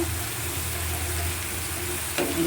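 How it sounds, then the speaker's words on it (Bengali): Hilsa fish curry sizzles steadily in hot oil while being stirred in a pan, a constant crackling fry with a faint scrape of the utensil near the end. "এখন আমি একটু নেড়ে নিচ্ছি এই যে সুন্দর করে নেড়ে নেবেন যাতে তেলটা উপরে উঠে আসে"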